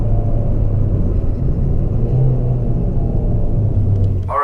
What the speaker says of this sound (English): I just love going through the gears in this car